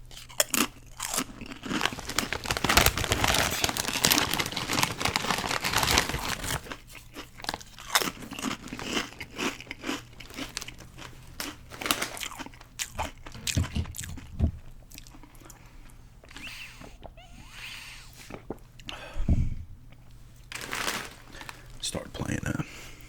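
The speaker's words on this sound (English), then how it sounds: "You're gonna get a stronger crunch out of these than you would a regular Lay's." Sour cream and onion potato chips crunched and chewed up close, with repeated crisp bites and chewing bursts and quieter stretches, while a voice talks over much of it.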